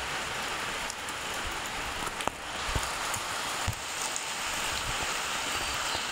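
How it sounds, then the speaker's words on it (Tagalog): Heavy rain pours steadily in the morning, a dense, continuous hiss of drops drumming on surfaces nearby, with a few sharper drips and taps standing out; no voices. "Sobrang ulan guys."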